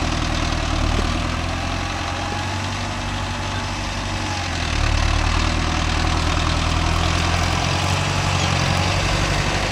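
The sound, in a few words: Mahindra Novo 605 S tractor engine pulling cultivator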